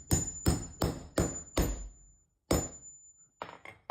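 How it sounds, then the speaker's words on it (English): Hammer blows drive a punch through a rubber Chelsea boot sole, five sharp strikes in quick steady rhythm, then a pause and a sixth heavier hit followed by a few lighter taps, close and clear with no talking. "apply a little bit of downward pressure with your hand before you start hammering it"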